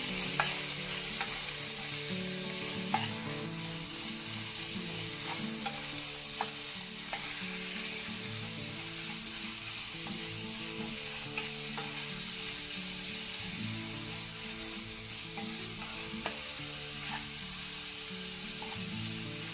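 Soft tofu stew base stir-fried in sesame oil sizzles steadily in the pan, with repeated scraping strokes of the spatula and no talk.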